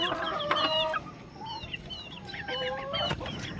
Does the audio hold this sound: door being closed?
no